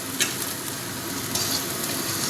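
Onions fry on medium gas heat in a pan, giving a steady, fairly loud sizzle with small crackles and occasional stirring scrapes, and no voices.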